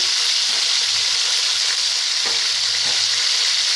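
Haitian yellow Lily butter sizzles and crackles in a pan, a loud, dense, continuous frying hiss heard close up with no talking.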